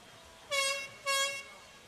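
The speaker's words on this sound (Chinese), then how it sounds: "场边的这个汽笛声响起" An air horn on the sideline of a youth mixed ultimate frisbee championship game gives two short, loud blasts in quick succession over quiet background noise.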